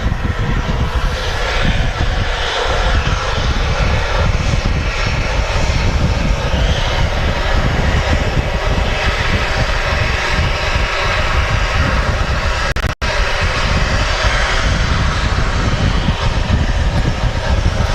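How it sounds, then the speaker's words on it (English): A Ryanair airliner, in from Katowice, rolls off the runway at Manchester Airport, its jet engines giving a loud continuous roar, broken only by one brief dropout near the end. "Ryanair just vacating is in from Katowice."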